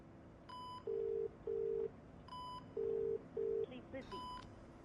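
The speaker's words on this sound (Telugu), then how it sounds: "ఒకసారి ఫోన్ ట్రై చేయి." A phone call being dialed in a movie scene: a string of short electronic keypad tones and beeps in uneven bursts, separated by brief gaps, fairly quiet and clean against a low background hum.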